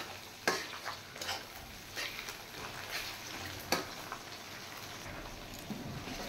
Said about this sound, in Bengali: আমি এই চর্বিগুলো প্রথমে একটু ভেজে নেব